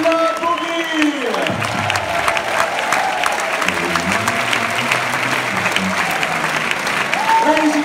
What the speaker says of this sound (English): a big applause for Marcus and Lazarus!